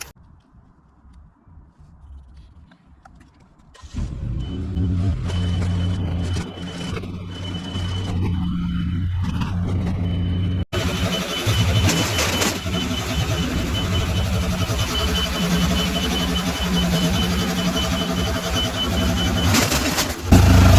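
Cherry picker driven along, a quiet start then a steady engine drone with rattles and knocks from the machine, close and continuous, with a sharp jolt partway through.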